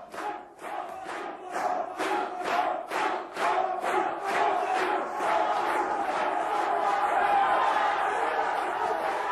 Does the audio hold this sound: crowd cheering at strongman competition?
yes